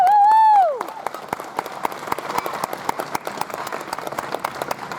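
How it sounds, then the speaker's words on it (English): Spectators at a livestock showmanship competition clap for four contestants in the ring, sparse distinct claps spreading through the crowd after a loud amplified voice at the start. "we need to give them a big round of applause"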